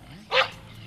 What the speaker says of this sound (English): there must have been another dog in the park